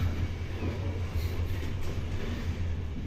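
Inside an Italian passenger train running on rails, a steady low rumble and faint rattle continue without a break, with no talking.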